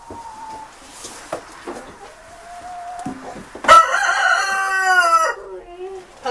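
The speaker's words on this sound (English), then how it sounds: "Hopefully you can hear over the chickens." Chickens cluck and a rooster crows loudly nearby in a farmyard where a goat is milked, a few scattered clucks leading into one long, strained crow that fades off.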